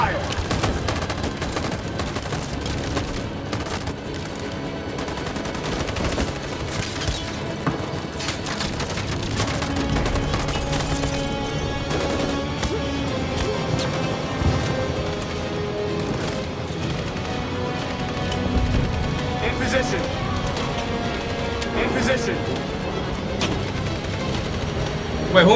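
Rapid gunfire bursts and volleys from the video game Detroit: Become Human, loud and continuous throughout with dense overlapping shots and booms, a voice occasionally under the din.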